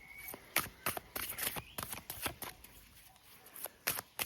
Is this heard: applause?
no